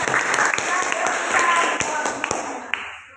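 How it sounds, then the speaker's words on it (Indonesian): Audience in a classroom presentation setting gives a round of applause, a dense spread of clapping with a few sharp individual claps standing out, tapering off near the end as talk continues over it. "Tepuk tangan dulu, beri semangat."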